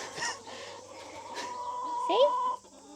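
A backyard chicken clucks close by, with several short clucks followed by a louder, rising squawk.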